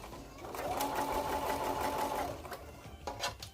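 A sewing machine running a seam across the pleats of a fabric face mask produces a close, rapid whirring buzz for about two seconds, followed by a few light handling knocks.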